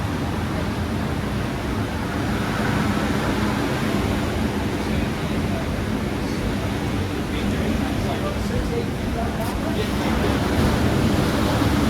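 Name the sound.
water rising in a canal lock as the gate opens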